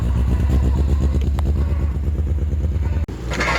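A Triumph Spitfire engine runs loudly close by at a British Leyland car show, with a steady lumpy rumble and slightly rough, uneven firing throughout.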